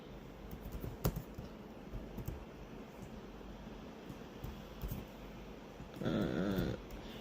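Soft, quick keystrokes on a computer keyboard in short irregular bursts, faint and close against a steady background hum, with a brief louder noise near the end.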